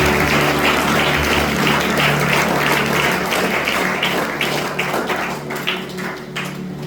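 A congregation at a novena Mass applauds, a dense steady patter of many hands clapping with a low hum underneath, gradually thinning toward the end.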